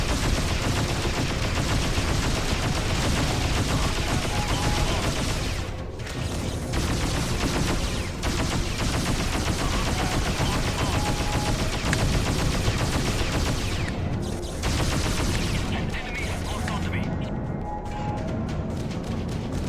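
Enemy ship firing during space combat in the Freelancer game, a dense, continuous barrage of rapid gunfire and mechanical clatter, loud and close, with brief dips around a few moments and no talk.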